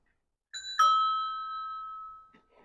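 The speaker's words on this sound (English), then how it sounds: "So the bell's fitted, right hand bell, right hand movement." A right-hand bell on a 2023 Raleigh Chopper mk4 bicycle is struck twice in quick succession, leaving a clear ringing tone that fades over about a second and a half in an otherwise quiet room.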